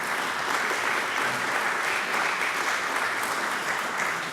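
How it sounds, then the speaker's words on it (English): An audience at a seminary lecture on mission history claps steadily, a thick, even wash of applause that holds without pause throughout. "It's about time for me to have us all clap and let you."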